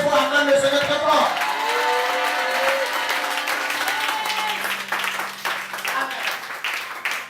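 A congregation at a church prayer vigil applauds steadily throughout, the clapping blended with sustained musical tones and voices.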